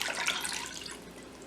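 A short, soft splash and trickle of one and a half cups of water being poured into a pot with sugar and a spice bag, faint and brief.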